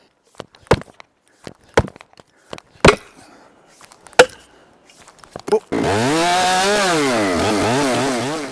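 Sharp chopping knocks and clacks come first, then a loud, close chainsaw roars and revs while cutting through big fir trees during heli-logging.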